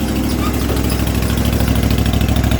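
A New Holland GT1 garden tractor with a faulty ignition idles close by, its engine giving a loud, steady low thrum with an even, rapid pulse throughout.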